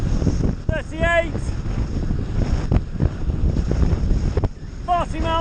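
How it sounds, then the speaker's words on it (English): Wind rushes and buffets over a microphone on a bike descending fast in the dark at about 36 to 38 miles an hour, a steady roaring gust noise that persists throughout, with someone speaking over it. "the wind's a bit better now"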